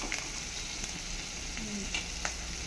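Dried fish frying hard in a pan gives a faint, steady sizzle with a few scattered soft crackles.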